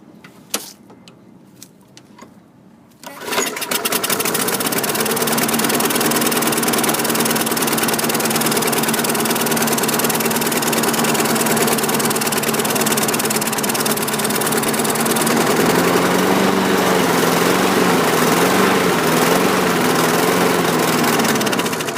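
2013 Craftsman self-propelled lawn mower engine, preceded by a few sharp clicks and pull-start sounds, then catching at about three seconds into a loud, steady close-up running roar that holds throughout, with a slight wavering change near the end.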